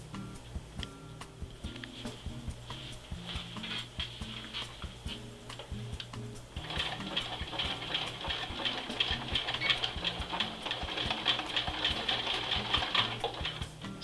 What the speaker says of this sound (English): Sewing that new strap seam